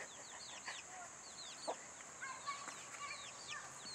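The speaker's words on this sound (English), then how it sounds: "I want to have a look at these baby chickens." Baby chickens peep and cluck in a coop, many quick high chirps overlapping continuously, faint and close, with no talk.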